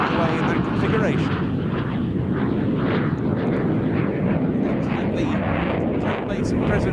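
A Swiss F/A-18 Hornet jet roars past at an air show in a dirty configuration with undercarriage and hook down, rolling along the way, a loud sustained rushing thunder under an announcer's commentary.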